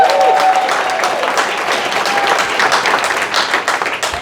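A comedy club audience in Raleigh claps and cheers at the close of a stand-up set, the applause loud at first and then thinning slightly as scattered claps continue.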